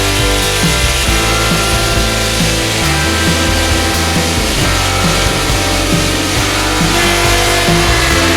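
A power sander drones steadily and loudly outdoors on a laminated catamaran hull, a dense buzzing grind with no pauses.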